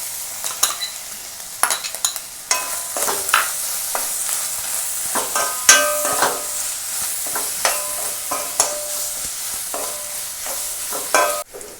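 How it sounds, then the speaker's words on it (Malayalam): Shallots fry in coconut oil with dried red chilli and curry leaves while being stirred, giving a continuous sizzle broken by repeated scraping and stirring clatters of a utensil in the pan. "ഇനി നമുക്ക് കൊച്ചുള്ളി കൂടെ ഒഴിക്കാം."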